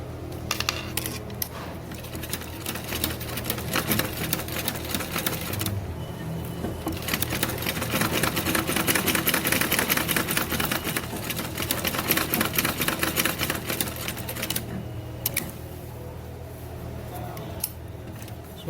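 A sewing machine stitches a slit neckline at a quarter-inch seam, running steadily and close by for most of the stretch, with a few brief pauses and no talk.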